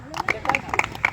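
A crowd at an outdoor shot put trial claps for a young athlete in quick, uneven bursts of close handclaps, with talking and crowd chatter over the top.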